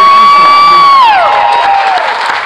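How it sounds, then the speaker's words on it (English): Crowd at a NASCAR driver Q&A in Phoenix cheers and applauds, loud and sustained, with a bright sustained tone gliding downward over the noise partway through. "Let's give him a big round of applause."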